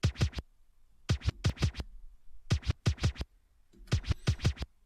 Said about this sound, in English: I added a little bit more elements to the beat, which is this right here, the scratch.